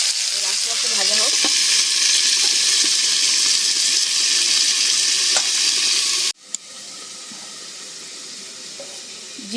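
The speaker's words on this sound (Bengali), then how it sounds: "কুমড়ো আর ফুলকপিটা একসাথে ভেজে নেব।" Pumpkin and cauliflower pieces frying together in a pan: a loud, dense, continuous sizzle heard up close that cuts off abruptly partway through, leaving a much quieter, fainter hiss.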